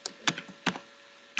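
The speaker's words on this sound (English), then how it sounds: "I'm just typing it" A computer keyboard is typed on nearby in a quick burst of a few distinct clicky keystrokes, unevenly spaced, with no voices.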